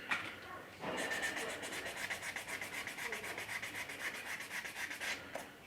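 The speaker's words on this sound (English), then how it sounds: "another round of sanding, but we're going to do wet sanding this time" Steady rhythmic wet sanding strokes with sandpaper rasp back and forth against a quarter-scale figure, fairly quiet and close, with no voices.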